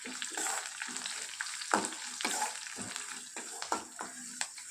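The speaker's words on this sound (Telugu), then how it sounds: "కరివేపాకు, జీలకర్ర ఆవాలు, ఎండుమిరపకాయలు ఇవి బాగా వేగాలి." Curry leaves, cumin, mustard seeds and dried red chillies sizzle and crackle in hot oil for tempering, with steady frying hiss and repeated sharp pops as the spices are stirred in the pan.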